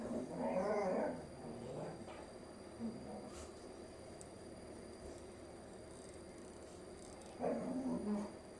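A young female puppy whimpers and snuffles close by, with short whiny bursts at the start and again near the end and quieter sniffing between them in an otherwise calm indoor setting.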